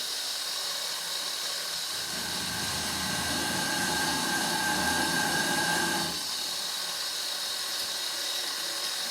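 A drill bores indentations into a steel billet for a raindrop pattern, giving a steady, harsh grinding whine that starts at about two seconds, holds for roughly four seconds, then cuts off, with a low hiss before and after.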